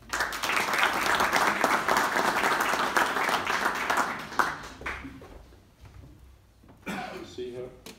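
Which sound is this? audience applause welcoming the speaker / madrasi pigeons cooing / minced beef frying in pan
audience applause welcoming the speaker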